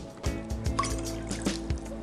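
Water trickles and drips into a bowl for pizza dough made from stale bread, a short run of soft, close splashes and droplets against a quiet background.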